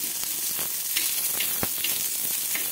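Chopped onion roasts on a hot griddle pan, giving a steady loud sizzle with scattered crackles and pops throughout, close and with no talking.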